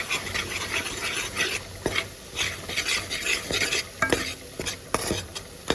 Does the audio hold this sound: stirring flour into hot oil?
yes